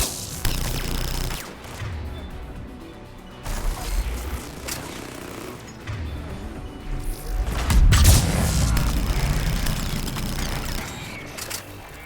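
Gunfire in the Mass Effect 3 video game during a battle near a tower: scattered distant shots and booms over a rumbling background, growing denser midway, with no speech.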